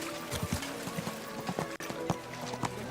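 Hooves of a ridden horse in Kingdom Come Deliverance 2 clop in a quick, uneven rhythm over a busy outdoor game ambience, close and moderately loud.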